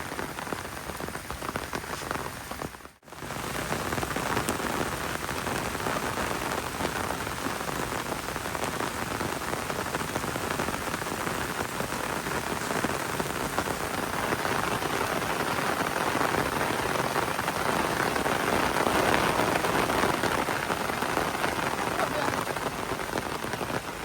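Rain pours on an island resort on Koh Kradan, Trang, as a constant close hiss of drops on surfaces, with a brief dip just before it settles into a steady downpour.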